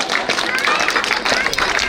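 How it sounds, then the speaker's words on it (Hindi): A crowd claps steadily at a school Republic Day 2025 event at NBPS School, a dense, even patter of many hands filling the whole short stretch without pause. "तो एक बार जोरदार तालियों से अभिनंदन करते हैं इनका,"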